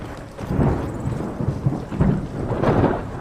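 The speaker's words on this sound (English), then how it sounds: "Nice rainy weather." Rain with deep rolling thunder in the video game Skyrim, loud low rumbles surging in waves over a steady wash of rainfall, no talk.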